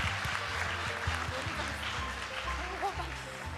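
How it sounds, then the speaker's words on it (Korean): Moderate audience applause at a church school Christmas service, heard alongside low background rumble and some voices, fairly even across the short stretch. "다시 한번 큰 박수"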